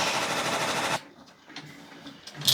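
An embroidery machine stitches a circle onto a sweatshirt, a fast steady mechanical whir and needle chatter that stops abruptly after about a second, leaving quiet room noise and a few faint clicks.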